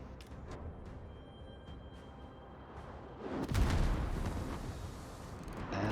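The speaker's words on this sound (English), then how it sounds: "Vermont's shooting at me again" Battleship gunfire in World of Warships, a deep boom that lands midway through and rumbles on under quieter background battle noise, without speech.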